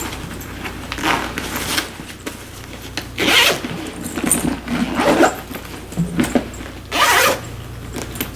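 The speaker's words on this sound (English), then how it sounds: "you just can zip it right back into the bag" Repeated zipping as a removable liner is zipped back into an ELKIE diaper bag, several long zipper runs in bursts with rubbing and fabric handling between, close and fairly loud, no talking.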